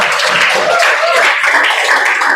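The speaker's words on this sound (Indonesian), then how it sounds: "Kita kasih tepuk tangan dulu buat teman kita." Steady, continuous applause from a group, a dense wash of many hands clapping at once with no pauses, fairly loud and close.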